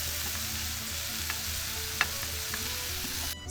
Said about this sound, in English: add our ground beef and our ground lamb